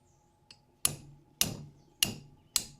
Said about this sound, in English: Grab a little hammer.